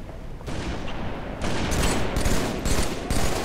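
Sustained rapid gunfire in a Halo 3 competitive 2v2 match on the Narrows map, loud dense bursts of automatic shots with a booming low end, restarting in several waves without speech.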